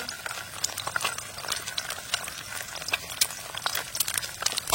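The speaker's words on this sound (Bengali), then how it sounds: "এবার এই ডিমটাকে একটু কড়া করে ভেজে নেব" An egg frying in a little white oil in a kadai, fried crisp on the underside: a dense, continuous bubbling sizzle scattered with small sharp pops and crackles, close and fairly loud throughout.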